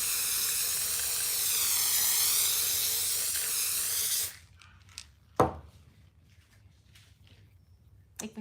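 Spray adhesive hissing from an aerosol can onto quilt batting for a baby quilt, a loud continuous close hiss lasting about four seconds, then it stops and a few soft handling rustles and taps follow.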